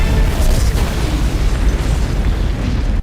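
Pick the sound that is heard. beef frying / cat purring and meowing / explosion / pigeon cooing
explosion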